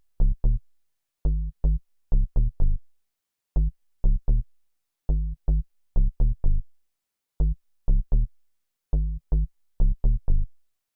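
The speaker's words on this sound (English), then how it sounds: "So you can hear, this is a pretty simple bass line." A simple minimal dub house synth bass line plays short, plucky low notes in a sparse, repeating rhythmic pattern, clear and alone.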